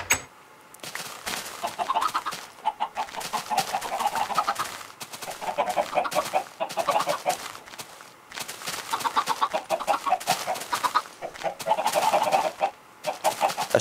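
Chickens cluck on a chicken farm in the video game Minecraft. Repeated clucks come in clustered bursts with short pauses, fairly loud and close, with no talking.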